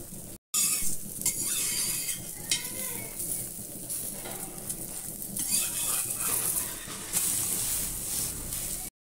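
Bread frying in butter on a hot tawa, with a dense, steady sizzle and crackle punctuated by soft scraping and clinks from a spatula, close and continuous.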